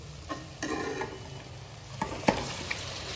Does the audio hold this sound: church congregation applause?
no